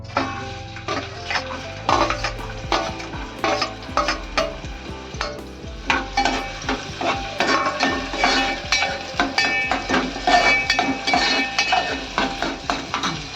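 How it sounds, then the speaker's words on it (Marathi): Onion tossed into hot oil for a tempering in a kadai while preparing suran bhaji: steady frying sizzle with frequent clattering spoon strokes and metallic scrapes close by. "आता कांदा टाकूया फोडणीला"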